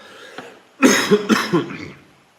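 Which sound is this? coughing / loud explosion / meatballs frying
coughing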